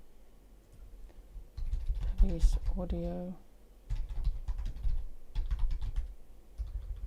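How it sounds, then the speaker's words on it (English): Computer keyboard typing in bursts of rapid clicks, fairly close, with a voice speaking between and over the keystrokes. "You can hear me typing."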